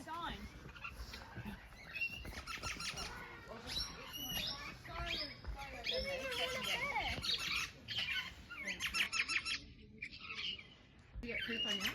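Birds squawk and chirp in an aviary at Ballarat Bird World, Australia, with repeated calls scattered through near-constant chatter from adults and children.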